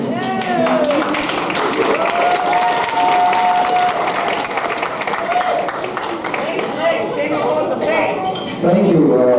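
Guests at a 1991 wedding reception applauding, dense sustained clapping mixed with clinking glasses and cutlery, with cheers and voices in the crowd throughout.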